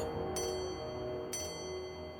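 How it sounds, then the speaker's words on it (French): Two soft bell strikes of a bell tolling midnight ring out about a second apart over a steady background hum, distant and faint. "vous entendez une cloche qui sonne."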